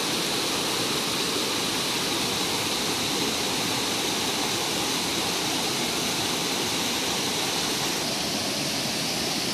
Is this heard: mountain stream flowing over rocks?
yes